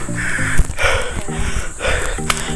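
Heavy, labored breathing of a hiker out of breath while climbing up to a fort, with loud rhythmic gasping inhales and exhales repeating close to the mic with no speech.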